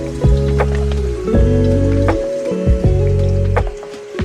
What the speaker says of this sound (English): The idea is to run water through the rice so it comes out clear and gets out all the starch